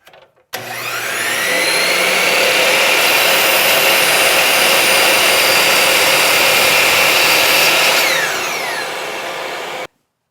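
A power saw cuts wooden face frame rails against a stop block, spinning up abruptly, holding a loud, steady whine through the cut for about eight seconds, then winding down before stopping sharply.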